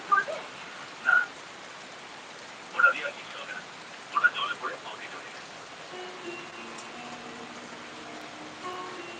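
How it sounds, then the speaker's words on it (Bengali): Heavy monsoon downpour on a road at a fairground, a dense steady hiss of rain throughout with a few louder bursts of nearby voices early on. "আপনারা দেখতে পাচ্ছেন মুসলধারে বৃষ্টি হচ্ছে"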